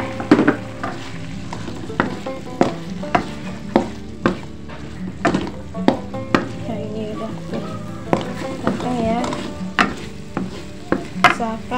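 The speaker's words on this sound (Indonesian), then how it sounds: "Kita aduk lagi. Kita masak sampai benar-benar kering ya." A spatula scrapes and stirs a potato croquette mixture in a frying pan, with regular strokes about once a second over a steady, close sizzle as it cooks down dry.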